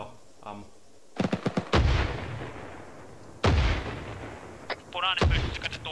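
Video game gunfire in a tank or armoured combat battle, with a quick burst of rapid shots followed by heavy booming blasts that ring out loudly, close by, between quieter gaps.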